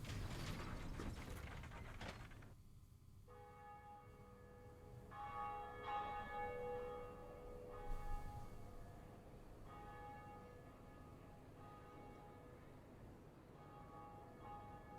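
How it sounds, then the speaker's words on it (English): A bell tolls in the game Dark Souls Remastered amid clanking, ratcheting mechanism sounds, with ringing tones sustained and repeated over a low rumbling background. "But there we go, we did it, we rang a bell."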